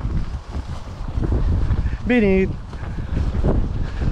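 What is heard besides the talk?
strong wind at fishing lake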